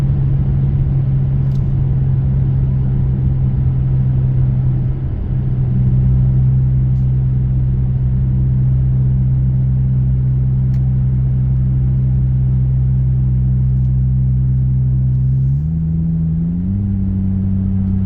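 Car engine droning steadily while driving down into a canyon on the road to Telluride, a loud continuous rumble with a brief rise in revs near the end, no talking.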